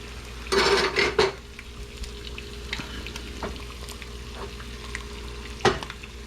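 An egg frying in hot oil in a pan gives a crackling sizzle, with a loud spitting burst near the start, a softer steady hiss after it and one more sharp pop near the end.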